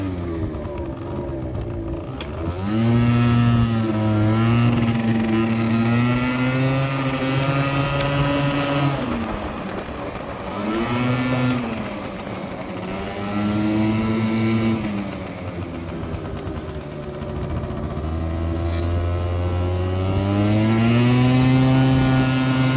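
An Aprilia SR50R 50cc scooter rides up a road, its small engine droning loud and close with rising and falling revs as the throttle opens and eases off through the ride.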